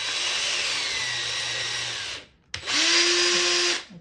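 A power drill opening an 8-track tape cartridge whirs steadily at close range, stops briefly, then starts again in a second, higher-pitched burst before cutting off.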